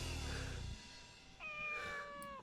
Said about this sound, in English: little kitty cat